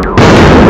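A loud Diwali firecracker bursts with a sharp, sudden blast that fills the space and then roars on briefly, heard close and alone.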